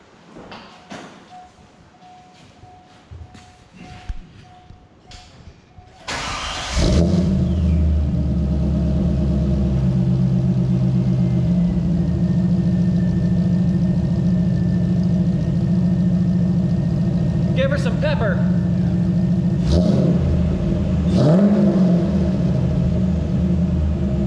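A Corvette V8 fitted with new heads, cam and intake cranks and catches after a few seconds of quiet shop noise, then settles into a loud, lumpy, steady idle with brief blips of revving.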